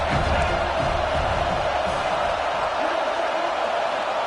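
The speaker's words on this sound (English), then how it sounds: "This crowd trying to make life miserable for this offense." A large football stadium crowd at an Arkansas game keeps up a loud, continuous roar of cheering and noise, with a commentator's voice running underneath.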